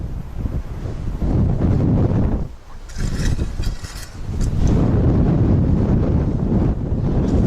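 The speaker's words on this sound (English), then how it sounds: "Man, it's windy" Strong wind buffets an outdoor microphone on a farm, a steady loud roar of rumbling gusts that dips briefly and then surges back, with no voices.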